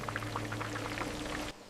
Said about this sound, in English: Hot oil begins bubbling immediately as crocodile tail strips start frying.